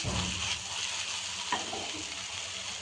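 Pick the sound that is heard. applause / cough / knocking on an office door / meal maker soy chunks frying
meal maker soy chunks frying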